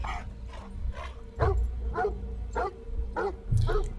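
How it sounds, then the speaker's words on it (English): A dog barks repeatedly in a steady rhythm, about seven sharp close barks spaced roughly half a second apart, with some yipping and whimpering quality and a faint voice briefly present. "generally dogs don't bark at nothing"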